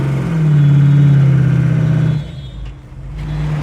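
Engine of a 1966 Ford Mustang convertible pulling hard while driving, a loud, steady low drone that holds for about two seconds, then eases off and picks back up.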